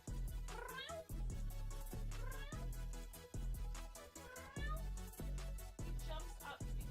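A cat meows repeatedly up close, giving a run of several rising and falling calls in quick succession with short gaps between them, and no talking alongside.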